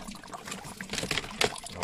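Water from a filter pours steadily into an aquaponics grow bed, a faint continuous trickle and splash with small bubbling bursts throughout.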